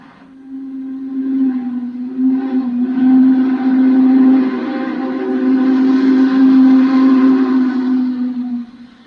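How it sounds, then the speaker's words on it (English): A Union Pacific Big Boy four-cylinder articulated steam locomotive, a heavy freight engine, sounds a long deep chime whistle that holds loud and steady for about eight seconds over a faint rumble, with no talk. "On the Union Pacific, the term Big Boy accurately described their 4-cylinder articulated locomotives used to haul heavy freights over the steep grades of the line Sherman Hill"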